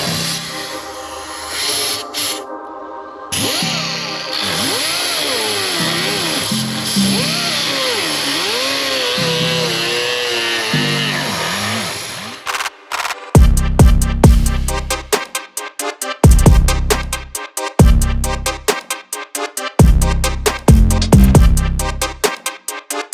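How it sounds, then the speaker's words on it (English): Die grinder fitted with a cutting wheel cutting into a bass guitar body cavity, a loud high whine whose pitch wavers under load, then a run of short choppy bursts with gaps between. "what I'm using is this die grinder with a wheel on it. I'm just going to get in here and cut these out"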